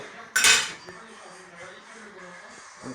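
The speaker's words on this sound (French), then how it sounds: "Vous prenez une grosse cuillère ou n'importe quoi d'autre. Vous prenez la glace." A big spoon scoops ice cream from a container for a milkshake, giving one brief loud scrape and clatter of metal on the tub, followed by quieter clinks and soft kitchen handling noises nearby.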